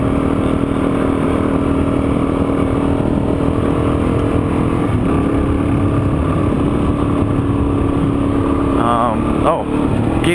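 A dual sport motorcycle rides through deep sand in Arizona's Camp Creek Wash. Its engine drones at a soft, steady throttle under heavy wind rush for the whole stretch, with a brief rattle near the end.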